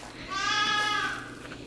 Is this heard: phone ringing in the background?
no